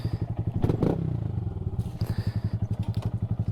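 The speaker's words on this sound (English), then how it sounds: "now it definitely sounds like some sort of pit bike or something" A 2023 Honda Grom motorcycle fitted with a ram air intake, a close, throaty single-cylinder putter with rapid regular pulses, a brief rev and rattle early on, then settling back to a steady chug.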